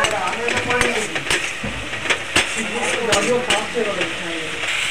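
Spice paste with slit green chilies and a pinch of salt sautéing in a pan, a continuous loud sizzle broken by frequent scraping stirs and occasional clinks of the spoon.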